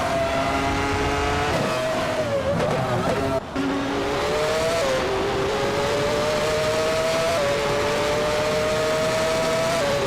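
A Footwork F17 race car in a race, its engine a loud, continuous high-pitched drone that holds steady, dips briefly and climbs again through gear shifts over about ten seconds, with faint tire and road noise underneath.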